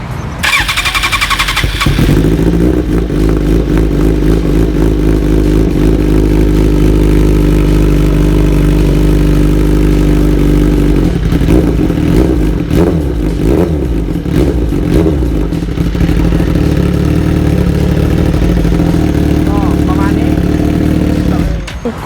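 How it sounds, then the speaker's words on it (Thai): A Suzuki GSX-R1000 K7 motorcycle with an aftermarket exhaust, a large four-cylinder sportbike, idles loudly and close by, then its throttle is blipped in repeated revs. Voices talk over the engine. "ฟังเสียงท่อกันก็ได้ครับ"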